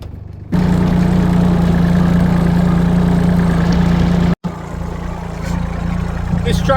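A tractor engine idling close by, a loud steady low rumble with a constant hum that runs throughout, briefly cut off for an instant before resuming, with a voice speaking over part of it.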